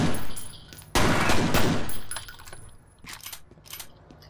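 Gunfire in the first-person shooter F.E.A.R., with a loud sustained burst of shots followed by sharper separate cracks and rattling debris as the firing tapers off.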